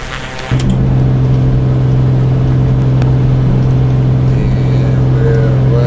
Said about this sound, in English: And we're right at takeoff speed.